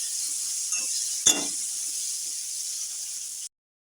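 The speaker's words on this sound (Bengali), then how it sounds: "গরম তেলে তেল নুন দিয়ে দিয়েছি, বেগুনটা দিয়ে দিলাম" Eggplant frying in hot oil with salt gives a steady, bright sizzling hiss, broken once by a short clink of a utensil, before the sound cuts off abruptly into silence.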